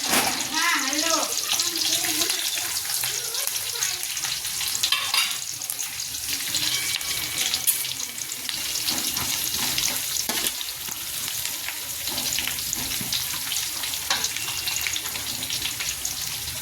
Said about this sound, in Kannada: ಇವಾಗ ಇದಕ್ಕೆ ಬೆಳ್ಳುಳ್ಳಿ ಹಾಕ್ಕೊಡ್ತೀನಿ ನೋಡಿ.